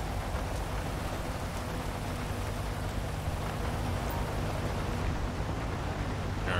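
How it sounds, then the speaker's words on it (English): Steady heavy rain in the GTA 5 video game, a dense unbroken hiss and patter that fills the whole stretch at an even level with no talk over it. "The game looks so much better with the rain, though."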